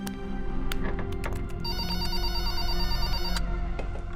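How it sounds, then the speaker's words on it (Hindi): A telephone rings repeatedly in a Hindi TV drama scene, its bright electronic ring tones sounding clearly over a steady musical background, with no talking. "सुभाष काका, अर्जुन सर को बोलिए ना गौरी मैम का फोन है"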